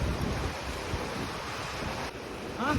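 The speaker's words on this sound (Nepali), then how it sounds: "यो खोला भोटेकोसी खोला।" Rushing water of the Bhote Koshi river at the bridge on the Nepal–China border, a steady broadband roar running unbroken throughout, close and fairly loud, with a brief faint tonal chirp near the end.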